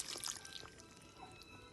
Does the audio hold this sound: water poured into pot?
yes